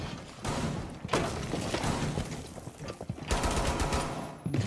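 Rapid-fire gunfire in Rainbow Six Siege, with dense bursts and heavy thuds coming in quick succession, loud and close, with no voices over it.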